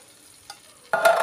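Corn is poured into a hot pan for a traditional Christmas spaghetti dish, a sudden loud burst of sizzling frying and stirring after a near-silent moment with one small clink.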